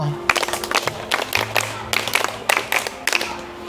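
A Grade 6 art class of schoolchildren claps hands together in a rhythmic cheer, sharp bursts of clapping repeating in groups through the clip, with a faint hum underneath.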